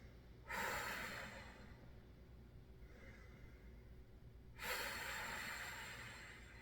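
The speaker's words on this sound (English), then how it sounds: "Breathing deeply." Deep breathing during a core strength and flexibility workout for golf, two slow audible breaths, a long inhale-like rush and later another, close and soft against a low steady background.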